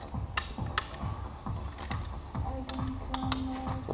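A wrench ratchets 13 millimeter bolts off a Jeep steering column in quick, regular clicks with small metallic taps, close and fairly quiet.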